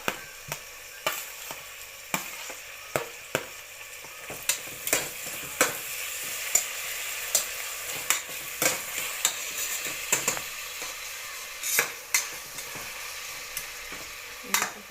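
Tomato, coriander and mint fry in a pan for khichdi with a steady sizzle, while a spoon scrapes and stirs in regular, clicking strokes throughout.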